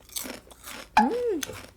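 Crisp crunching bites into homemade potato chip animal style fries, a few close, sharp crunches and chewing sounds at the mouth, with a brief vocal sound in the middle.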